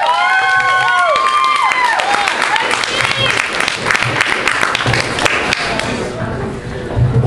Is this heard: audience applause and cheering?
yes